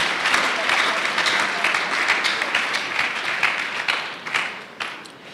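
Congregation at a Sunday church service applauding, a dense, sustained wash of many hands clapping with scattered louder claps, steady throughout and fading slightly near the end.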